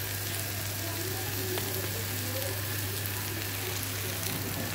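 Tomato, onion and green chilli curry with dried palmyra sprout pieces fries steadily in a pan, a constant dense crackling sizzle at moderate level with no break.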